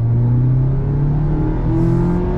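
A 2022 Mazda MX5 Miata G184 engine revs hard toward its 7,500 RPM limit, a loud, close, sustained rising engine note with strong harmonics and no talk.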